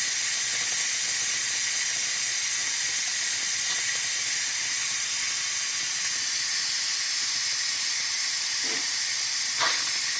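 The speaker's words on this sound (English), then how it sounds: "Now you can see all that steam." Steady, loud hiss of steam venting from a pressure cooker on manual release while red lentil and spinach soup cooks inside, continuous and close throughout, with a couple of faint knocks near the end.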